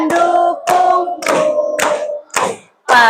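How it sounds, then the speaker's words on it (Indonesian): Hand clapping keeps time with a group singing a patriotic song unaccompanied, the claps landing in a steady beat beneath loud, close voices. "Sambil tepuk"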